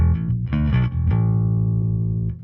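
A low, sustained electric bass note through an Axe-Fx III modeled Mesa Bass 400 amp rings out with a thick, slightly gritty amplified tone, a few quick plucked notes at the start, no voices.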